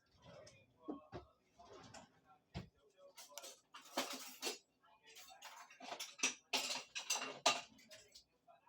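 Cookie dough is worked in a bowl with scraping, knocking and clicking as the bowl is turned, in irregular close bursts between spoken words.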